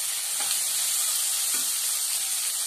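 Onions fry in a pan for tomato curry, giving a steady close sizzling hiss throughout with a couple of faint stirring scrapes.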